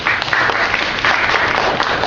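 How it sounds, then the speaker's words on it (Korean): Audience applause honouring a university student after a talk on stage, dense and loud, filling the whole moment without a break. "저희 김진우님께 박수 한번 드릴게요."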